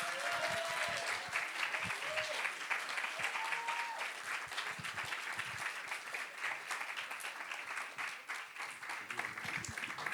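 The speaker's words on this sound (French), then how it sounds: "Je vous demande d'applaudir comme il se doit Eureka et Marino." Audience applause at a French YouTube evening show, a sustained, fairly distant wash of many hands clapping that runs throughout, with faint voices mixed in.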